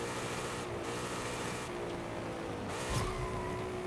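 A car drifting in first gear in Forza Horizon 5, its engine droning steadily with tire noise, close and continuous, and a brief sharp squeal near the end.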